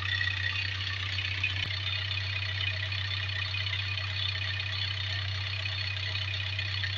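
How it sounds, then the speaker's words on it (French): A boat's engine idles and runs steadily on a test while leaving a marina, a constant low droning hum with a single faint tick partway through, close and alone with no talk. "On fait un petit test moteur, voir si tout va bien."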